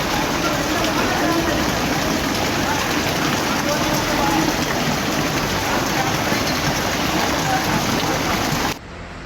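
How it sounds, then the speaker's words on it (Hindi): Heavy monsoon rain pours down across the high mountain areas of Uttarakhand, a dense, loud, unbroken hiss that holds steady throughout and then cuts off abruptly at the very end. "उत्तराखंड के ऊंचे पहाड़ी इलाकों में बारिश कहर बनकर टूट रही है"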